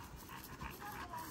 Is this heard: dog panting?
yes